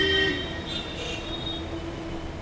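A Delhi metro train running along an elevated viaduct, steady rumbling rail noise with faint wheel squeal, continuous and moderately close, no voices.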